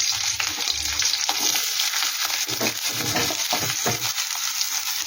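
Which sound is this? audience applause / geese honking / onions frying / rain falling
onions frying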